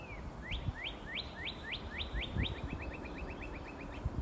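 A cardinal gives a run of rising whistles, then a quicker string of short, even chips follows as its mate answers, over steady background noise.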